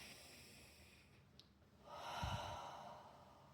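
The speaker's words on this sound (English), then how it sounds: "So take another deep breath." A single deep breath drawn in quietly, then released as a long, soft, airy exhale that swells and fades, close by in an otherwise hushed room.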